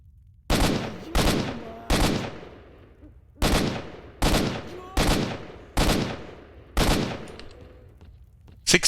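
Gunfire from S.T.A.L.K.E.R.: Shadow of Chernobyl, about eight loud, sharp shots with echoing tails, fired in an uneven sequence of singles and pairs.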